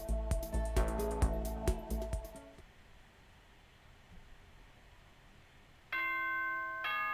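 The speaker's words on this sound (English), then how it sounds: "Ding dong, bing bong." Bright, ringing multi-tone chime of an in-game announcement, a chord of bell-like notes sounding at the start and again near the end, with near silence between.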